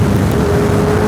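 A motorbike exhaust rumbles loud and close while riding, a steady low drone with a constant engine tone and wind buffeting throughout.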